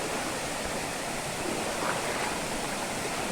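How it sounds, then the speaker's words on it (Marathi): Waterfalls tumble all around a river trek near Panval in Ratnagiri, producing a steady, even rush of falling water that fills the scene without pause. "जिकडून तिकडून धबधबे पडत आहेत"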